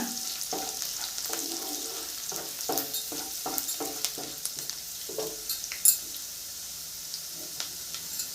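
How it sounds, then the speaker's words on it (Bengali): Spices lightly frying in a pan for a peas masala, a soft sizzle under a series of distinct scraping stirs and taps of a spoon against the pan, fairly quiet and close. "তিরিশ সেকেন্ড ভেজে নিব হালকা করে ভেজে নিয়েছি"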